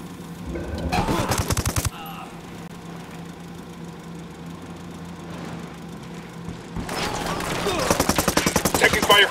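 Gunfire in a video game firefight at a parking area: dense bursts of automatic shots open the scene, give way to a quieter rumbling lull, then loud rapid firing returns near the end.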